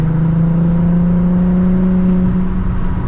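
A worn Volkswagen GTI engine revs and drones steadily with a sustained low exhaust tone, slightly rising in pitch, loud and close with no talking.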